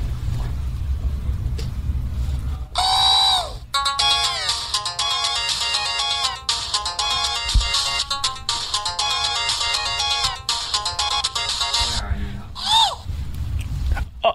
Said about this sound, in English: Oh, my phone's going.